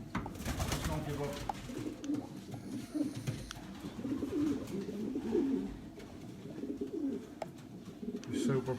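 Racing pigeons cooing inside a stock loft, soft repeated throaty coos and shuffling from several birds close by, with faint talking underneath.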